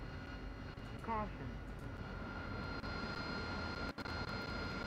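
An AV-8B Harrier's jet engine runs steadily in the DCS World flight simulator, a constant droning whine with a brief rising tone near the start and a couple of short dropouts.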